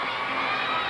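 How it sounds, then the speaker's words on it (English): Arena crowd at a 2002 NCAA women's gymnastics meet, Alabama at Georgia, sustaining a loud, steady wash of booing and shouting that holds without a break for the whole second. "Some boos from the crowd, and that is the ultimate sign of respect"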